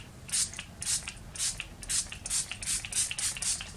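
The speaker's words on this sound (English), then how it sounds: "set my face with some spray" Makeup setting spray misted onto a face: a quick series of about eight short, breathy hissing bursts in a steady rhythm, close and fairly quiet, with no talking.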